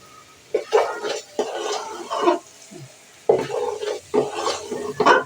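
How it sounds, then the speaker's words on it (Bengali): Rice frying in hot oil in a pan for bhuna khichuri, stirred over raised heat: bursts of sizzling and scraping stirs come in irregular strokes, close and fairly loud, with short quieter pauses between them. "চালটা ভেজে নেব।"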